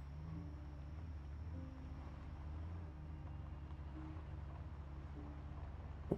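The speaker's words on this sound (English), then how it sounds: "This is a pretty loud car." Loud car engine in the Project Zomboid video game, a steady low droning hum with the vehicle running continuously, no talking.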